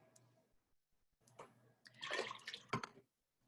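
Water poured into a measuring cup while preparing a pickling brine of vinegar and water, a short splashing pour rising to a louder burst then stopping, close and quiet with no talk.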